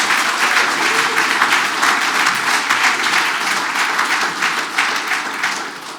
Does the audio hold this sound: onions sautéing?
no